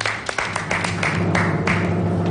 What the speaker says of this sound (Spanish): El aplauso para Antonella Ríos que ha venido.